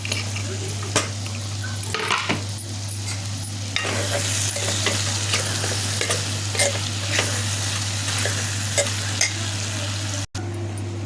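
Moong dal fries in oil in a pan with a dense, continuous sizzle, broken by frequent spoon scrapes and clanks from stirring, close and loud, over a steady low electrical hum.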